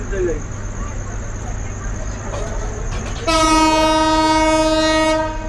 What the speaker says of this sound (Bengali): তো আমাদের ট্রেন হুইসেল দিয়ে দিল।